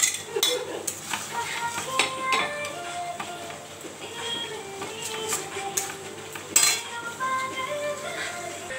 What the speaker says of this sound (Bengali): ভালো করে কষাচ্ছি। মাথাটা দিয়ে দিচ্ছি, বোয়াল মাছের মাথা।